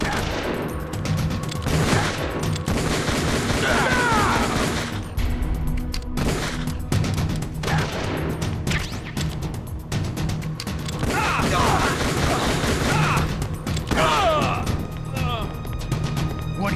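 Sustained automatic gunfire rattles in Metal Gear Solid: The Twin Snakes, loud bursts and impacts repeating throughout with voices speaking over the shooting.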